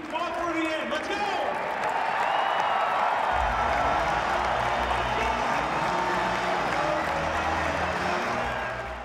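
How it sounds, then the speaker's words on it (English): A packed Rutgers basketball arena crowd cheers and claps during a game against Illinois, a loud, sustained roar with applause that swells and holds, with voices shouting over it. "Stand up, everyone. Let's cheer our team."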